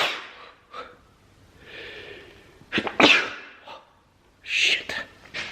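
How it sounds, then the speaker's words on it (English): A person sneezes sharply after a few quick breaths and gasps, with more loud breathing and snorting afterward, close and fairly quiet overall. "I gotta sneeze."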